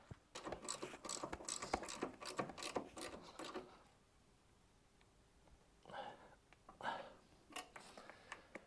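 A spanner or ratchet tightening bolts on a Royal Alloy VCR scooter, rapid close clicking in a quick burst, a quiet pause, then a few more short ratcheting bursts.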